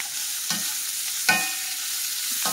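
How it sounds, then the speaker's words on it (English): Diced potatoes with fajita seasoning and a little butter sizzle steadily in a pan. Three brief scrapes of stirring break the hiss at even intervals, close and without speech. "Mix that around good."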